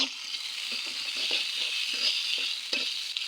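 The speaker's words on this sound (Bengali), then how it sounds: "পেঁয়াজ মোটামুটি ভাজা হয়ে গেছে" Onions sizzle steadily in a hot pan, with a series of soft, regular stirring scrapes over the continuous frying hiss, close and alone with no voices.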